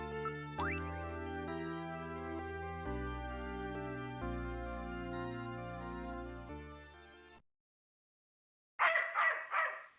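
In the video game Snatcher, sustained electronic game music plays, falls silent, then a Doberman lets out a quick cluster of several loud, harsh barks at close range.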